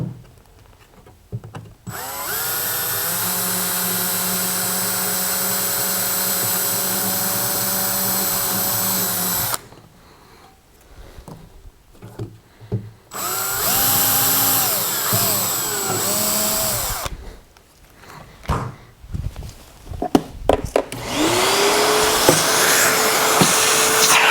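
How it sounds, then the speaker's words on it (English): A power drill whines loudly in long bursts while boring pilot holes for set screws, stopping and restarting several times, with quieter gaps of handling noise between runs. "I'm going to use a drill bit to drill 2 pilot holes for my 2 set screws."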